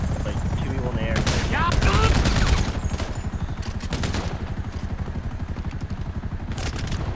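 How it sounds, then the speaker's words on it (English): Rapid bursts of automatic gunfire in GTA V survival gameplay, loud clattering volleys that swell near the start and then continue as steady rattling fire, with a helicopter in the scene. "As soon as I got out of cover, he started shooting me."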